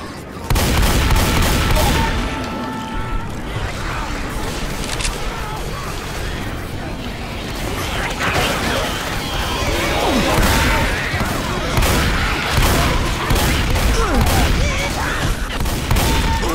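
Dense gunfire from a Left 4 Dead 2 zombie match, continuous loud shooting, booms and crashes filling the whole stretch with little letup, game voices mixed faintly underneath.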